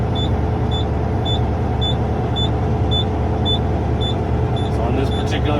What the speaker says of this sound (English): So on this particular truck, it usually takes about a minute and 40 seconds, somewhere. Build that pressure.